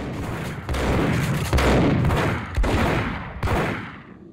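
Rapid bursts of gunfire from the Max Payne video game crack out in several loud volleys, with brief gaps between them, and no voices alongside.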